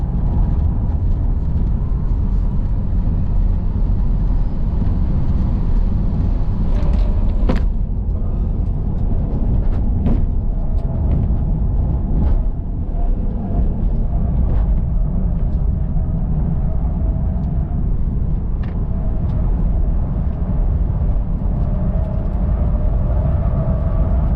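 A Tesla Model 3 Performance runs a fast lap on a race track, heard as a loud, constant rushing roar of road and wind noise with a few sharp clicks and thumps, no voices.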